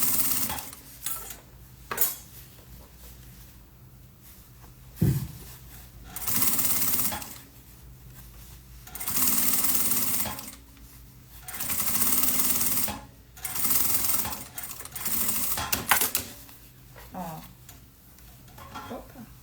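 A sewing machine topstitches a fabric bag in repeated whirring runs of a few seconds each, with pauses between them and someone talking at intervals.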